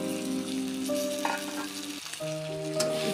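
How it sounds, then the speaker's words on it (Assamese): Potatoes and small fish fry together in a pan for an Assamese drumstick and fish dish, a steady close sizzle with occasional stirring scrapes throughout. "এতিয়া গোটেইখিনি একলগ কৰি ভাজিম।"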